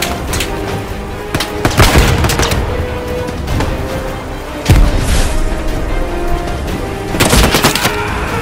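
Booming blasts and rattling gunfire in a Hell Let Loose battle, with heavy explosive hits near the two-second and five-second marks and another burst near the end, loud and close under continuous combat noise.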